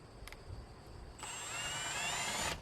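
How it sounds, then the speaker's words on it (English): Power drill boring a hole through a wooden 4x6 post for a driveway security camera mount, a steady high-pitched whine starting partway in and running loud and close to the end, with faint background noise before it. "there's been a hole drilled straight through the 2x6"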